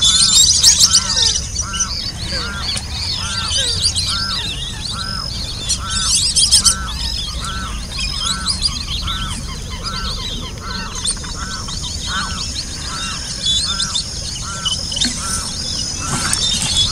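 A flock of black-bellied whistling ducks calls on a riverbank, with repeated loud whistles and squawky honks in overlapping rhythmic bursts, close and continuous throughout.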